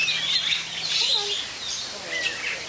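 Small bird chirping and calling near a feeding cup held as a perch, a few short high tweets rising over soft outdoor background noise.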